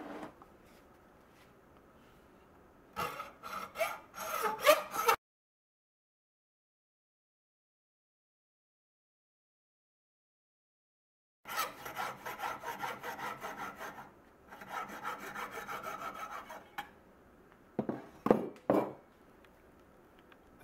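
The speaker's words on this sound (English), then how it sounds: "And I'm just going to use plain old hacksaw." A plain hacksaw cuts through the base of a deer antler clamped in a vise with leather padding, giving bursts of rasping back-and-forth strokes separated by a long silent pause.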